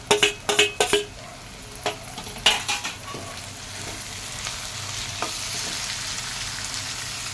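Tomatoes frying in a pan with crushed green chili and garlic paste for a mixed sprouts usal, a few sharp stirring knocks at first, then a steady, close sizzle that carries on without talk.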